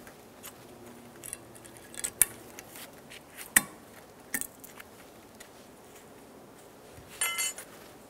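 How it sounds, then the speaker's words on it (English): New metal brake pad clips are slid into place on the caliper bracket of a 2007-2014 Chevy Silverado 2500 HD. A few sharp, faint metallic clicks and clinks come at scattered moments over a quiet workshop background. "Take some new pad clips. Slide those in position."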